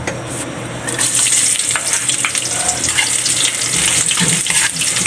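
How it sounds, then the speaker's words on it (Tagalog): Sliced ginger sautéing in hot oil in a pan for octopus adobo, a steady loud sizzle and hiss running the whole time with faint stirring, no voices. "Gigisa muna natin guys. Ulahin muna natin guys yung luya."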